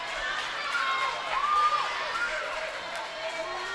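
Spectators at a girls' varsity volleyball game cheer and shout in a gym, a moderate crowd swell with a rising peak midway, while a commentator talks over it.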